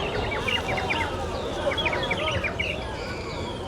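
A water flute played by a woman at a street food market in Xi'an, China, imitating bird calls: rapid warbling, trilling chirps in repeated bursts over steady crowd babble and street noise.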